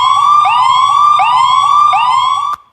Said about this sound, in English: I can hear some siren